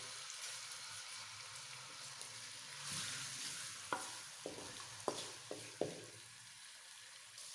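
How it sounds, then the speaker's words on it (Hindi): Onions sizzle softly in a pan, a low steady frying hiss punctuated by several clinks and scrapes of a utensil stirring. "और उसके बाद प्याज़ों को अच्छी तरह ब्राउन कर लेते हैं।"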